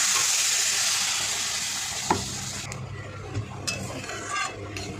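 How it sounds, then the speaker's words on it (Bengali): A loud sizzling hiss that gradually fades as water is poured into fried spice masala for fish curry, with a few clinks and stirring sounds. "মশলা কষানো হয়ে গিয়েছে, জল দিয়ে দিচ্ছি।"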